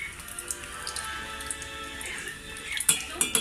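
Oreos deep-frying in hot oil in a pan being flipped over: a steady bubbling sizzle with small metallic taps and clinks of a utensil against the pan, sharper scraping clatters near the end.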